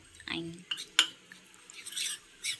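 A spoon stirs chopped almonds and a little dark chocolate in a bowl, giving a few light clinks and scrapes, quiet and intermittent, with a brief voice sound near the start.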